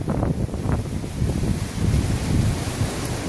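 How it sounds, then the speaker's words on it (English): Tropical storm wind gusts of about 50 miles an hour in Noumea, from Typhoon Pam, rush and buffet steadily outside a duplex, a dense low roar with surging swells that never lets up. "Gusts maybe 50 miles an hour."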